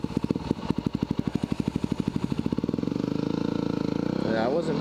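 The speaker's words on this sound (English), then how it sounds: "this is my latest hobby, the dirt scooter here." Small single-cylinder engine of a dirt scooter running close by, a steady rapid putter of firing pulses that speeds up into a denser, smoother drone before a brief higher whine at the end.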